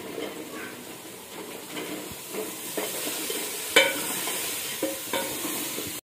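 Vegetables frying and being stirred into a roasted spice masala for a salan curry, a steady soft sizzle with occasional scraping spoon clicks, close and continuous with no talking.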